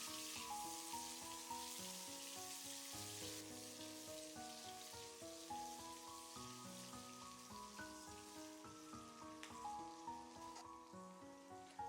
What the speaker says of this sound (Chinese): 小火煸炒出香味。